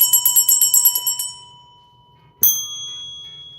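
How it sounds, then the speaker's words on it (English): A small bell rings in a rapid trill of about a dozen bright strikes that fades out, then a single sharp ding rings out and slowly decays, with no talking. "You get a bell."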